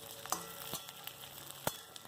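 Onion and potato sizzle quietly in a pan with occasional scraping stirs of a utensil, a soft steady frying hiss underneath.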